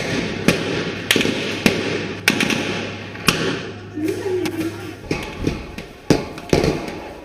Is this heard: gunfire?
yes